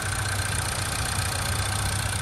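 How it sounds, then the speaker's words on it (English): A 2024 Ford Mustang EcoBoost engine idling steadily up close, with a fast, light valve ticking running through the low rumble. "you can hear how ticky this engine is"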